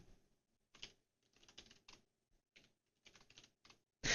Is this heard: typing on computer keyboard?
yes